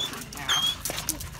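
Dog whimpering and yipping excitedly on seeing its owner after a week away, with high, thin whines over a faint background, short and fairly close.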